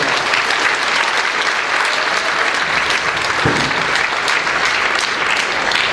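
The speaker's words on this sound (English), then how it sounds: "give yourselves a round of applause" Audience applause at a middle school winter band concert, a thick, continuous roar of clapping in a large hall, loud and even throughout with a single low thump partway through.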